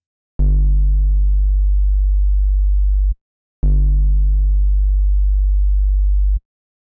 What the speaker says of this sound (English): Hear how it now starts off closer to that square wave, effectively distorted, and then fades away back to that sine.